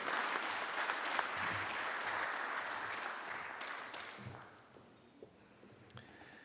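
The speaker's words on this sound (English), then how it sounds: "a big round of applause for Shona and the Sustainability team." An audience applauds the sustainability team at a conference session, a broad wash of clapping that holds steady for about four seconds and then thins out to scattered claps before fading.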